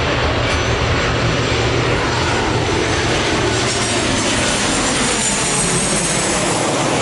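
An airplane passes over a residential neighborhood during a bike ride, a steady, loud, broad roar that fills the whole stretch without letting up.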